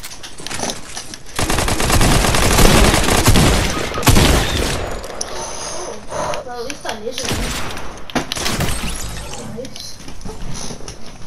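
Gunfire in the video game Fortnite, with loud, dense bursts of rapid shots and thuds over several seconds, mixed with game effects and some voices.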